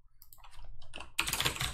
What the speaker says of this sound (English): I know my keyboard is quite clackety